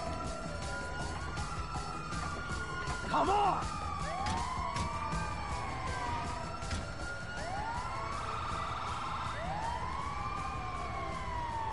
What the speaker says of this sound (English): Hey, get in the ambulance!